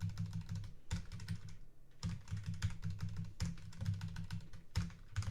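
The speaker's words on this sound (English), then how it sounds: "Based on that keyboard sound, that must be one expensive piece of hardware." Fast typing on a computer keyboard during a coding session, with crisp clicky keystrokes in rapid bursts and brief pauses between them, close and clear with no talking.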